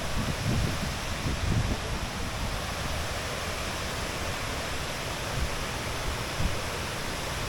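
Steady, broadband roar of the Kuang Si Falls waterfall near Luang Prabang, Laos, a dense continuous rush of falling water with a low rumble, holding even and loud throughout with no voices.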